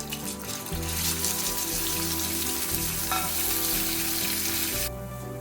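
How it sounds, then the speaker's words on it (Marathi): Khoa (milk solids) roasting in a spoonful of ghee in a pan gives a steady, close sizzling hiss with stirring scrapes throughout, no talking. "एक चमचा तूप घालते खवा भाजून घेते"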